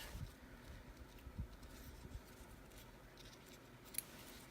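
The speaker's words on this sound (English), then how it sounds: "Just going to snip it off." Scissors snip through yarn while finishing a crocheted bow for a dog tutu, giving a few faint, quiet cuts with a sharper click near the end against a soft background.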